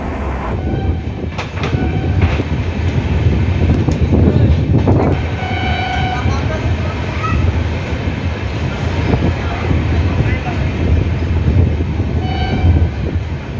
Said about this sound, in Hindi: ट्रेन हमारी पहुंच चुकी है सिवान